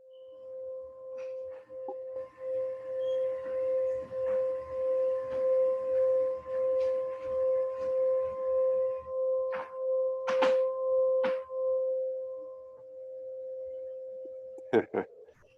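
A small singing bowl rings with one sustained, pure tone that gently wavers in a slow pulse, close and clear, then fades, followed by a couple of sharp knocks near the end.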